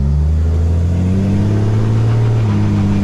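Mercedes SportChassis pickup truck and a smart car accelerating together, a loud, continuous low engine drone with rising pitch, close and unbroken, without speech.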